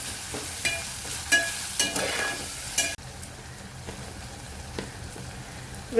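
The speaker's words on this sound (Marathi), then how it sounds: "टॅमॅटो पण चांगला मऊ होईपर्यंत परतून घ्यायचं" Tomatoes sautéing in a pan until soft, with a soft steady sizzle and a few sharp stirring clinks and scrapes in the first half, then a quieter, even frying hiss.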